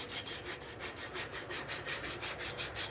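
Steady rhythmic back-and-forth sanding on a purpleheart wooden knife handle, a soft rasping stroke repeating about every quarter second, close and fairly quiet.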